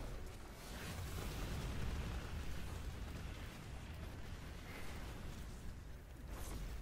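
Missiles exploding around a Red Legion attack in Destiny 2 make faint, distant rumbling booms and broad whooshing bursts that swell and fade over several seconds, with no speech.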